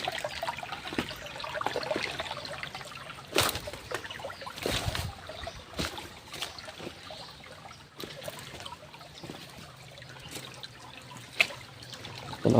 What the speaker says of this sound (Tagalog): May sapa-sapa nga gamay dito mga idol.